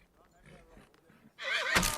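A wild mustang horse lets out a loud, close whinny that bursts in suddenly after a stretch of faint, quiet speech and carries to the end.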